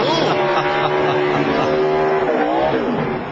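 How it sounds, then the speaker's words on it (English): Two NASCAR Busch Series race cars roar through a dual burnout, engines revving hard in a loud, sustained blare with rising and falling pitch that tails off slightly at the end. "What a dual burnout."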